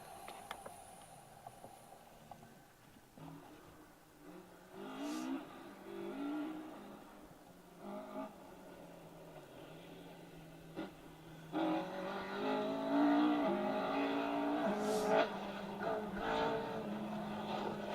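A Mitsubishi Evo 3 rally car on a stage of the Nicky Grist Stages rally is heard at a distance, its engine revving and shifting, growing louder and nearer in the second half.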